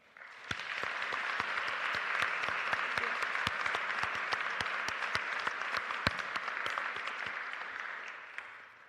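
Audience applause for inductees at a college athletics hall of fame induction ceremony, steady clapping from a modest indoor crowd with distinct individual claps, rising quickly, holding for several seconds, then tapering away at the end.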